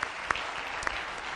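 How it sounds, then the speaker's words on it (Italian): An Italian TV studio audience applauds in a short burst of close clapping, with a few sharper claps standing out over about a second and a half. "facciamogli un applauso"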